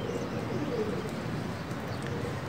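Domestic pigeons kept on a rooftop coo softly and steadily, low muffled calls within a continuous hiss of ambient noise.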